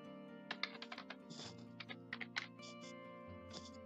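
Password being typed on a computer keyboard during software test setup: quick irregular keystrokes in short bursts, close and distinct over a steady tonal background hum.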